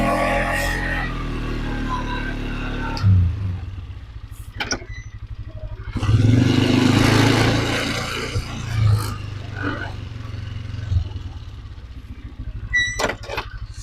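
A UTV fitted with snow chains climbs a snowy hill, its engine roaring and rising in bursts with clattering underneath, while someone talks over the noise.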